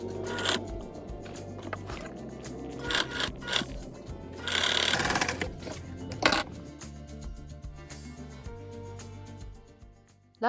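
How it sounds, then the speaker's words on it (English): A sewing machine stitches a waistband onto a pair of pants in short bursts, its motor whirring between pauses, handling noises and a rustle of fabric, close and fairly quiet. "Lastly, sew the waistband to your pant."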